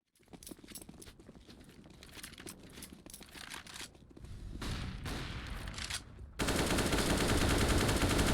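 Rapid pistol gunfire in a Counter-Strike match, dense bursts of loud, close shots crackling over a constant game din, growing heavier toward the end.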